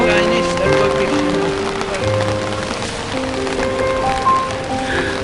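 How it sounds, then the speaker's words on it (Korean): Rain falling on a street in Zagreb, Croatia, a steady wash of patter and splashes close by, with people talking over it throughout. "와, 완전 비 오는 꾸질꾸질한 날."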